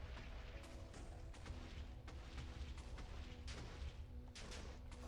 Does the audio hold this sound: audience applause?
no